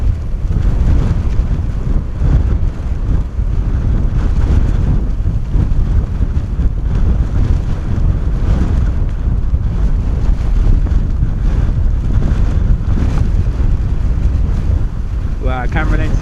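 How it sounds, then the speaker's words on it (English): Strong 35-knot winds at Bristol Airport batter the microphone in a constant heavy rumble, a loud, gusting roar that stays strong throughout. "this wind is mad"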